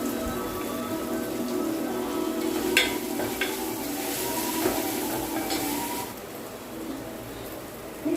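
Curry of drumsticks and chana dal being stirred in a hot pan with curry leaves and turmeric, village-style cooking; steady sizzling and frying crackle with scraping strokes, fairly close and continuous, no talking.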